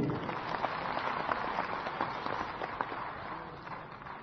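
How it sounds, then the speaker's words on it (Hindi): Steady applause from a crowd at a political gathering in Chhattisgarh, a sustained, moderately faint patter of many hands clapping without a break and no distinct speech over it. "इसके लिए आप सब लोग एक बार ताली बजाइए"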